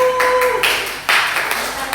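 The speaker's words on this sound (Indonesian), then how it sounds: "Beri tepuk tangan." During a classroom teaching-practice lesson, a class claps hands in short bursts of brisk clapping, a couple of separate rounds with brief pauses between, near and fairly loud.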